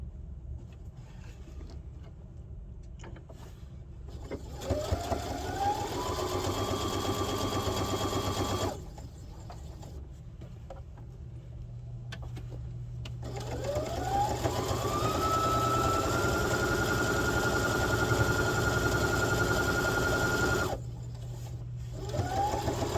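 An electric sewing machine runs close along a fabric edge in two long, smooth bursts, its motor whirring up in pitch and holding steady, with short pauses between runs.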